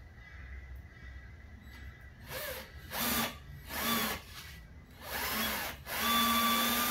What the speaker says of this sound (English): Once we've drilled the hole, there it is.